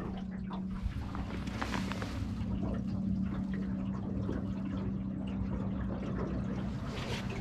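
A Minn Kota 45 lb electric trolling motor on a drift boat hums steadily at three-quarter throttle, a constant low whine with water swishing and splashing over it.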